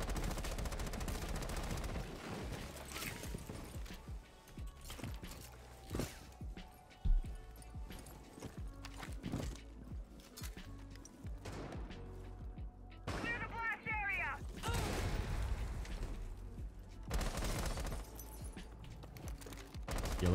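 Rapid bursts of automatic gunfire and single shots from the video game Rainbow Six Siege crackle throughout, with a voice talking over the shooting, a sharp blast midway and a short fizzing effect.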